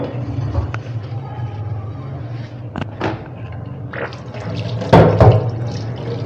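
A pot is washed under running water at a home kitchen sink, with steady splashing and trickling, a few clanks of the metal, and a louder splash burst partway through.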